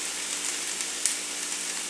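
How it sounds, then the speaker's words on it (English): Vegetables frying in hot oil in a home kitchen pan give a steady, even sizzle throughout, with one brief louder pop near the middle and no talking. "once you got your oil hot, the veggies in there"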